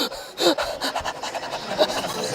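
A voices heavy, rapid panting breaths, imitating someone breathing hard down another runner's back. The huffs come in a quick irregular series, close and fairly loud, and no words are spoken.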